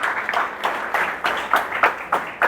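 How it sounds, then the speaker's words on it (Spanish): A church congregation applauding during a sermon, producing loose, uneven clapping with periodic louder bursts, fairly close and continuous without talk. "Dale un fuerte aplauso entonces al Señor."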